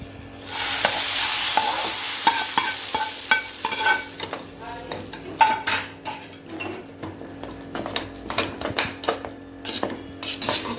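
A sizzling tempering is tipped into foxtail millet pongal and stirred in, giving a short burst of frying at the start. Repeated close scraping and clinking of a spoon against the pot follows in an uneven rhythm.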